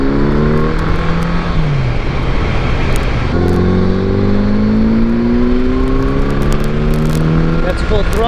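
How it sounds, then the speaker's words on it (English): A motorcycle with air suspension pulls hard at full throttle in second gear on a freezing day, its loud engine note climbing steadily in pitch, dropping briefly at a shift, then rising again close to the listener. "That's full throttle in 2nd gear."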